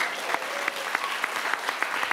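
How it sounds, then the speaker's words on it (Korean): A church congregation claps together during a sermon, a brief burst of steady, fairly loud applause with rhythmic accents. "그냥 이럴 때 박수 치는 거예요"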